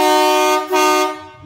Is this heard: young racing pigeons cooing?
no